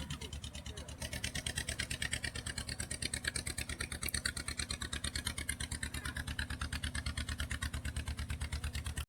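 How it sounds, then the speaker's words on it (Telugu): A fisheries department motor boat approaches through floodwater near Penumudi village, its engine chugging with a steady rhythmic beat, fairly close and moderately loud, throughout. "బోట్ వస్తుంది"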